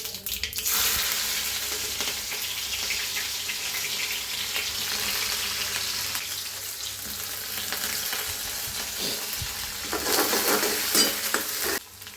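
Tempering crackles and sizzles in a hot frying pan for pav bhaji, a steady close hiss with faint stirring scrapes throughout, swelling louder toward the end.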